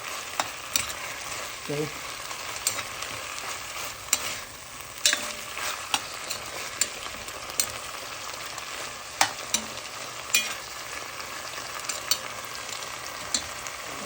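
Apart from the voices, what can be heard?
food frying in a pan for soup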